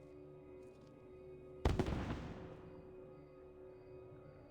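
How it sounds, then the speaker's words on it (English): A single firework bursts in Assassin's Creed 2: one sharp loud bang followed by a crackling, fading tail lasting about a second, alone over a quiet game background hum. "let's set this firework off so that everybody knows where we're at"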